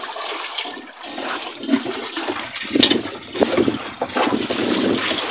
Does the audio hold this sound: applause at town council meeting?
no